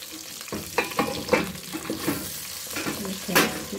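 Meat fries in cooking oil in a pan, a close, steady sizzle broken by stirring scrapes and small crackling pops over a few seconds.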